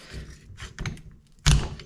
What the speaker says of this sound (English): guessing we can knock this part loose here